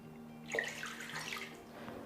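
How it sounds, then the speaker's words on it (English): Water pours into a pot for Nigerian Owoh soup made with potash and seasoning cubes, a soft close splashing trickle lasting about a second and a half before fading. "Now I'm adding water, just a little."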